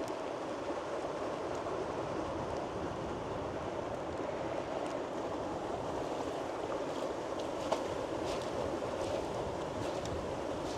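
A forest stream flows steadily, a continuous broadband rush of water heard up close and fairly loud throughout, with no voices.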